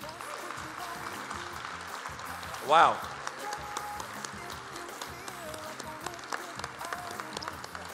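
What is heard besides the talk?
audience applauding the designers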